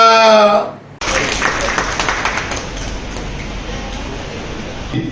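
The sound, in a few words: audience applause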